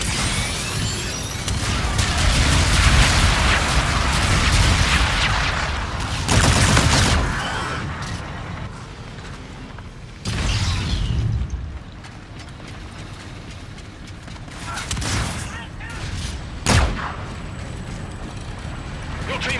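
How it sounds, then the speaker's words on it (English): Bombardment explosions and rapid gunfire from the Call of Duty: Infinite Warfare video game, with heavy booming blasts and crashes followed by quieter stretches punctuated by sharp bursts, loud and dense throughout. "Bombardment incoming."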